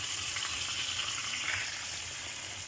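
Marinade liquid for chicken adobo poured into a hot pan, a steady bright sizzling hiss that runs without pause for a few seconds.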